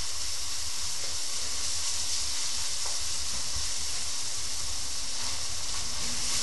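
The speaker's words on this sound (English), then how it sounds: "fry it up large. Try to burn off any moisture that's in the meat and in the onions." Meat frying with garlic and red onions in a hot pan, a constant loud sizzle and hiss with faint crackles, close and unbroken with no talking.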